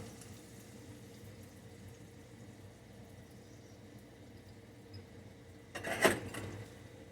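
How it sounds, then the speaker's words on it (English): Whisked eggs poured over heated ham in a hot pan for a country breakfast, giving a quiet steady sizzle that swells into a brief louder bubbling burst near the end. "There's the egg and the the ham bubbling up."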